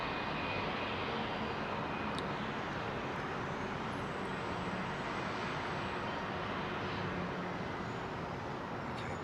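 Jet airliner departing at night from Heathrow Airport, a steady broadband engine roar that holds constant and fairly loud throughout, with faint distant traffic noise beneath and no talking.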